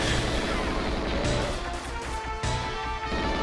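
Toy gun firing bullets in Persona 5 Royal, a steady dense stream of game combat noise with sharp shot-like hits and crashes over a continuous background, loud and close with no talk.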